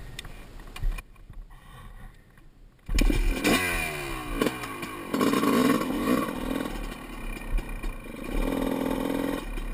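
A dirt bike starts up and revs on an FMX compound track, with loud, rough engine roar rising and falling, close to the microphone after a quieter opening.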